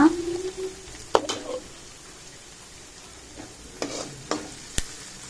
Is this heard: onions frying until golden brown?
yes